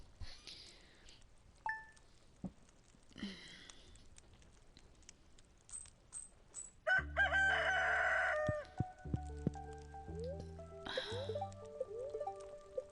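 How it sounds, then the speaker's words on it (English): Void chickens in a video game give sparse clucks and short squawks over quiet gaps, followed by a busy burst of game sound effects and chimes. "I love void chickens."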